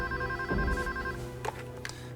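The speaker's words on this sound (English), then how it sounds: "I gotta get the phone." A telephone rings with a steady electronic bell tone, loud and near, sounding alone without talk.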